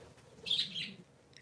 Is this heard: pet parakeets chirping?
yes